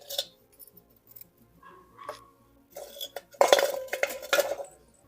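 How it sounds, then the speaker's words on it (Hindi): Blue pottery pieces from Jaipur are set onto kiln stands and stacked, giving light ceramic clinks and scrapes that build into a busier cluster of clattering knocks near the end, with no talking. "ऐसे बीच में बर्तन रख दो कुछ भी, और फिर ऊपर से फिर ऐसे रख दो"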